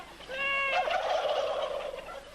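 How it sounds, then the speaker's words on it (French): Turkeys let out a single loud, rattling gobble that rolls on for over a second as a shaky burst, heard clearly with no talking over it. "les dindons"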